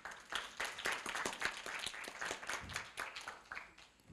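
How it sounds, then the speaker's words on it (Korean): Audience applause welcoming a company director onto the stage at a Korea University campus event, a dense, steady patter of many hands clapping at moderate level for about four seconds with no talking over it. "뜨거운 박수로 맞이해 주시기 바랍니다"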